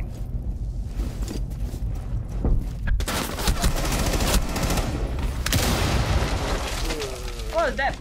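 Dense bursts of gunfire and a heavy bomb blast erupt in a Rainbow Six Siege match, rapid overlapping shots and booming explosions filling the scene, with players talking over the chaos.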